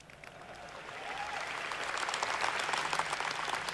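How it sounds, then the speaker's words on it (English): Audience applause greets a pre-game show of performers at a GTC Taipei keynote watch party, a steady wash of many hands clapping that swells and holds at moderate loudness from a crowd in a large hall. "And a round of applause for our pre-game show, Superstars, ladies and gentlemen."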